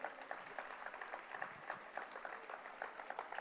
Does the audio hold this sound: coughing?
no